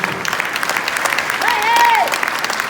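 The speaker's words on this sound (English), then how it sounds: "You got a cheering section here too tonight, Bruce." A crowd claps and cheers for a university athletics Hall of Honor inductee at an induction ceremony, steady close applause joined by a rising whoop and whistle partway through.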